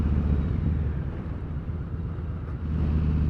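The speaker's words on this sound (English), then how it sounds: "I really do like the sound of this exhaust" A Harley-Davidson motorcycle fitted with Vance & Hines Eliminator slip-on exhausts idles with a low, steady, fairly subdued rumble throughout, with no talking.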